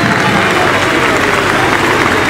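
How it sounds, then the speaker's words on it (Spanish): A crowd at a freestyle rap battle in Argentina applauds for Judy, a dense, loud, continuous wash of clapping heard up close without a break. "Un fuerte aplauso para Judy."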